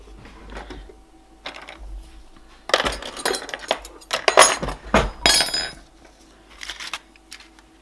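A spoon scrapes and clinks against homemade stick deodorant packed into a cardboard roll, giving bursts of close, bright tapping and scraping with short quiet gaps between.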